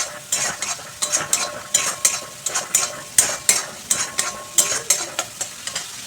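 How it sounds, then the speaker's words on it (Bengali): Spices with turmeric, Kashmiri chilli powder and salt are sautéed in a pan, the spatula scraping in quick, even strokes about twice a second over a bright sizzle, loud and close with no voices. "সব কিছু উপকরণ একটু ভালো করে কষিয়ে নেব।"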